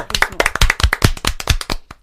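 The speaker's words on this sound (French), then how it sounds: "applaudissements." A short burst of close, loud hand clapping, quick and uneven, from a small group.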